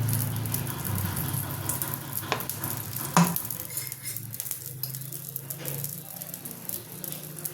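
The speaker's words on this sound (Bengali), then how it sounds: "লঙ্কার গুঁড়ো হলুদ গুঁড়ো দিলাম আর জিরের গুঁড়ো ধনের গুঁড়ো দিয়ে একটু জল দিই" Onion paste with chili, turmeric, cumin and coriander powders sizzles in a pan for fish curry, a soft continuous frying crackle with stirring scrapes and one sharp clink, fairly quiet and without talk.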